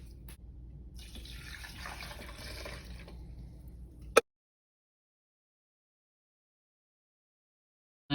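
Water pouring from a tap while making a hydration drink, a soft continuous splashing stream for about four seconds that stops with a click, followed by silence.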